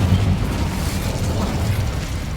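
An Incendio fire spell cast in Hogwarts Legacy, a dense, rumbling burst of fiery roar that stays loud and steady for a couple of seconds with no voices.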